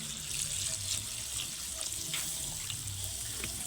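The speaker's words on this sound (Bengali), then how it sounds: "এইবার দিয়ে দেবো জল।" Water poured from a vessel into a pan of nearly cooked jackfruit curry, a steady faint splashing and running flow that continues for a few seconds without talk.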